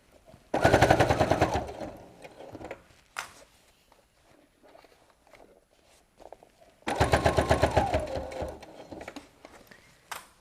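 A sewing machine top-stitches a BBQ utensil roll in two long, loud bursts of rapid stitching, separated by quieter handling noises and brief clicks.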